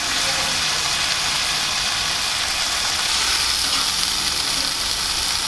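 Prosciutto-wrapped enoki mushrooms and asparagus frying in a hot pan, a loud, dense, unbroken hiss of sizzling fat held steady and close throughout.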